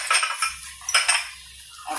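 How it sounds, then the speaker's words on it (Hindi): Onion pakora batter with chopped onion, green chillies and turmeric is stirred in a bowl, giving close scraping and light clinking of a utensil against the bowl. "अब हम डालेंगे इसमें प्याज, और प्याज डालने के बाद इसे अच्छे से हम मिक्स करेंगे।"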